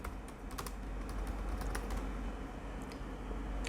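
Rapid keystrokes clatter on a computer keyboard, a close, quiet run of clicks with small irregular pauses.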